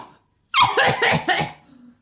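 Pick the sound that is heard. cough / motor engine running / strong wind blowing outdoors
cough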